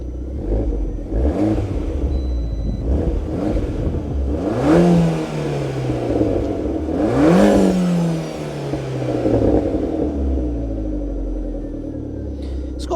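A small Abarth 500 engine revs up repeatedly in sharp bursts, each climbing then dropping back to a low burbling idle, loud and close.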